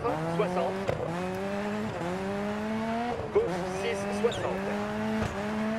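A rally car engine in the racing game DiRT 4 revs and accelerates, its pitch climbing steadily and then dropping at each of several gear changes, with faint tire noise and skids underneath.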